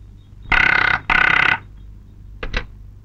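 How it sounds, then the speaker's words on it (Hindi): An office telephone in a Hindi film scene rings in two loud, close bursts, followed by a couple of quieter short chirps, with no talking over it. "ठकराल, ऑफिस तुम्हारे लिए फोन है।"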